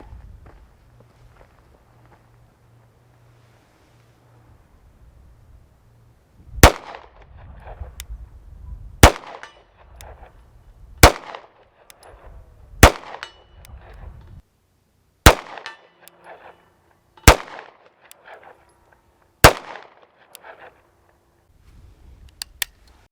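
A CZ 75 PCR 9mm fires at a 77-yard steel target: about eight sharp, loud shots spaced roughly two seconds apart, each with a short ringing decay, after several quiet seconds with faint background noise.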